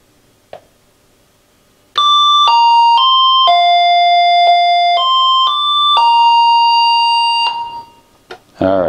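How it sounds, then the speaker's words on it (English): Dakota Alert M538 wireless driveway sensor chime plays at low volume, a clear melodic sequence of sustained electronic tones lasting several seconds after a brief click, ending with a short noise burst. "to see if the chime works, I'm just gonna turn it on, but keep the volume on very low"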